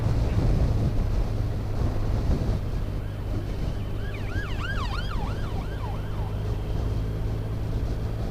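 Emergency vehicle siren wailing in rising and falling sweeps, passing on the road behind steady engine and road noise inside a car during an advanced driving session, sounding moderately loud and then fading as it goes by.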